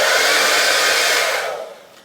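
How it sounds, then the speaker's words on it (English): A strong hair dryer runs in a hotel bathroom, a loud close whooshing blow that fades away as it shuts off. "It's a strong hair dryer."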